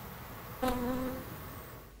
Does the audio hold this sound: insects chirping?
yes